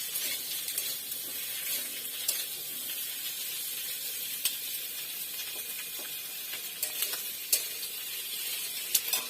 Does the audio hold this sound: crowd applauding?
no